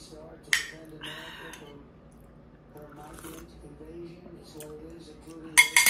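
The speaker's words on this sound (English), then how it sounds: "I got some utensils here." Metal kitchen utensils clink and clatter in a few sharp bursts during home cooking of pork sinigang, with a voice talking between the clinks.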